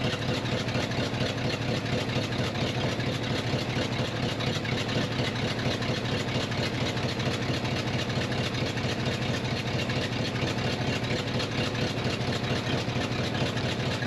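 A Dodge W300 4x4 dump truck engine in first gear driving the hydraulic pump to lift the bed, a steady, loud low rumble with a constant pulsing throb and no voices.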